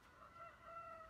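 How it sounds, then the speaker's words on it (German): A rooster crows in the background in quiet countryside, a faint, drawn-out call lasting about a second with no talking. "Ihr hört den Hahn im Hintergrund"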